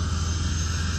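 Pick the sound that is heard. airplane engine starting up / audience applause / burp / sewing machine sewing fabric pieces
airplane engine starting up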